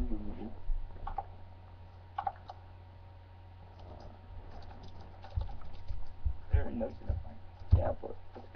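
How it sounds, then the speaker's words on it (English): Someone types on a computer keyboard with scattered quick key clicks in bursts, heard faintly under a low background hum with occasional voices. "Who's typing so much?"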